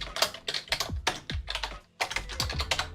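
Rapid, close typing on a computer keyboard, with bursts of crisp key clicks and a brief pause before the clatter resumes, heard on its own without talk.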